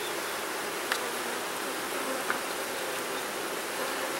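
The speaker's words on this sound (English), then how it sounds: "there's 4 or 5 bees constantly around my face here" Honeybees buzz thickly around a weak hive and close to a beekeeper's face, a continuous dense drone with a couple of brief sharp ticks.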